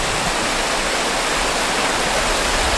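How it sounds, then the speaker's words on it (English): A cold, clear, spring-fed creek on a hunt club property rushes by with a loud, steady broadband roar. The flow continues unbroken and no one speaks. "It's a beautiful creek. It's always cold, clear, spring fed."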